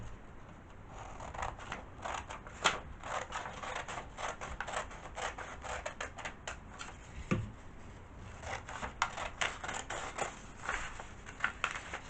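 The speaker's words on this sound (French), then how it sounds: "Je vais le découper dans cette feuille-là." Scissors roughly cut a sheet of paper with a long run of quick, crisp snips, some in fast clusters and others spaced apart, heard close and moderately loud over a faint background hum.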